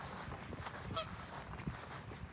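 Geese honk a few times at a distance outdoors while fishing, brief nasal calls over a steady wash of wind and ambient noise.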